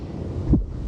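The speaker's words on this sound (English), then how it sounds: "Finan's heartbeat." A heartbeat in the video game Honkai Star Rail gives one deep, muffled thump partway through, over a low rumbling wind-like drone.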